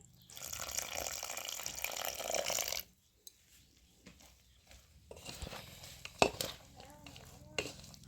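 Water splashes and swishes in a bowl for a few seconds, then quieter scraping and clinks of a spoon stirring a thick gram-flour and spice batter for peanut fritters.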